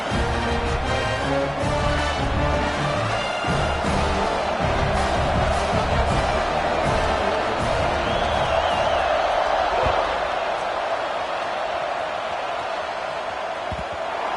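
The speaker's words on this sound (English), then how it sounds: "this crowd is buzzing after that last score" A football stadium crowd buzzes after a score, a loud, dense roar of voices and cheers that stays constant throughout, with some faint musical tones early on.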